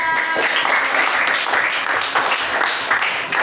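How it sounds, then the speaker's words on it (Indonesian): Classroom audience applauding a student group after a presentation, a steady mass of clapping at close range, fairly loud and even, with slight variations in intensity. "tepuk tangan buat kelompok 3."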